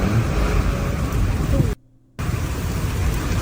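Rainstorm in nature: a dense, loud wash of falling rain that cuts out briefly to near silence before resuming at full strength.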